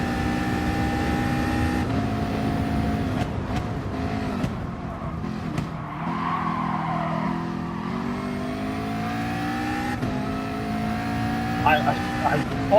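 A Honda race car engine in GT Sport droning at high revs during a race lap, with gear-shift pitch steps and other cars nearby, under continuous commentary.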